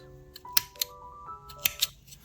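Scissors snipping crochet yarn tails on a bow, giving a few quick, crisp snips in two close pairs, near and clear against a quiet background with faint tonal hum.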